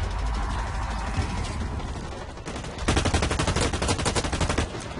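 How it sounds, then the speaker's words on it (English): Rapid bursts of automatic gunfire from the shooter game Blacklight Retribution, dense and continuous, growing louder and more intense partway through with fast repeated shots. "Okay, okay, who's shooting me? I can't tell who's shooting me."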